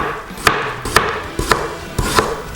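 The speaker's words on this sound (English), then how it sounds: "For garnish, slice a cucumber," Knife chopping a cucumber on a cutting board for a teriyaki chicken garnish, five distinct close chops spaced about half a second apart with no talking.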